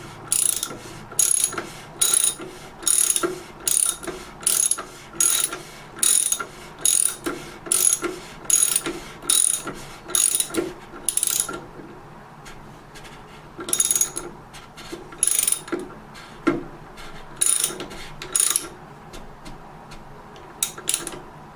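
A ratchet turning a 13/16 socket while a bath faucet part is tightened during a Moen Adler faucet leak repair; rapid bursts of sharp close clicking repeat in a steady rhythm, with a brief pause midway.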